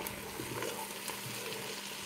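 Onions sweat in a pan with a soft, steady sizzle and faint stirring, quiet and close, with no talk.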